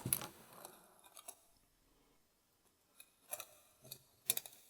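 Wire cutters snip 20 gauge round wire in a few sharp, close clicks scattered across a quiet stretch, with faint handling noises between them and no talking.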